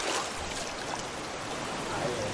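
Salt water rushes steadily as a container fills in the survival video game Raft, a continuous close pouring hiss with no talk.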